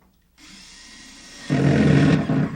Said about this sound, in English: we're using drywall screws and a cordless drill with Phillips head bit.